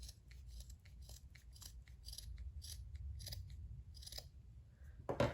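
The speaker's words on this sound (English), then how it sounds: "now I'm just going to trim it up. So I just kind of hold it in my hand like this, right? And I just give it a nice little haircut" Scissors trim the ends of a yarn tassel with a quick series of quiet, crisp snips close by, repeated irregularly over a faint background.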